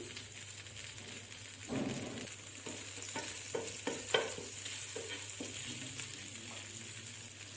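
Soft sizzling of garlic and sesame seeds frying in hot ghee, with occasional stirring scrapes and clinks of a spoon in a pan, steady and fairly quiet.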